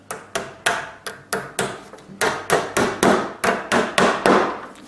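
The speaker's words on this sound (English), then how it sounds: "hammer." A hammer striking steadily while strapping electrical wire for a light and switch: about fifteen sharp, loud, close blows in a fairly even rhythm, each ringing briefly before the next.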